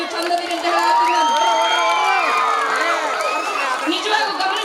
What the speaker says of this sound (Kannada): ಗಂಡು ಮಕ್ಕಳು ಜೋರಾಗಿ ಚಪ್ಪಾಳೆ ತಟ್ಟಬೇಕು